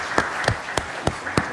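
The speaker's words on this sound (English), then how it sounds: "Let us applaud you for what you all are doing." Slow, rhythmic clapping at a city council meeting honoring hospital employees, five sharp evenly spaced claps standing out over a quieter bed of scattered clapping in the room.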